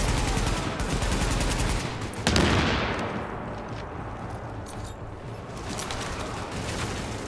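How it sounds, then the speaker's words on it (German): Gunfire in the video game Tom Clancy's The Division, with rapid automatic bursts for the first two seconds, then a sharp loud shot that decays into a long fading tail before further firing resumes faintly. "Wer schießt da?"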